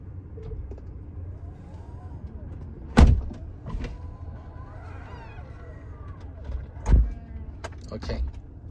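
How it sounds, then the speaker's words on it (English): Doors on a Tesla car shutting one after another: two firm thuds a few seconds apart over a low cabin hum, with a faint whirring of motors between them and soft speech in the background. "let's close all the doors"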